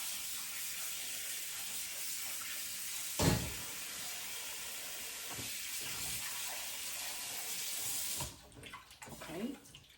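Tap water runs steadily in a kitchen sink as pork ribs are rinsed, a continuous close hiss that cuts off near the end, followed by a few brief clatters and splashes.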